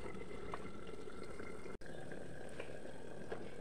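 Hilsa fish simmers in mustard gravy in a covered pan, a faint, steady low bubbling with a few soft pops and no speech.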